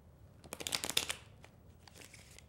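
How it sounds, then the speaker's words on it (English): A deck of playing cards is riffle-shuffled close up: a quick rapid flutter of flicking cards, then softer settling rustles, with no talk. "And shuffle it one last time."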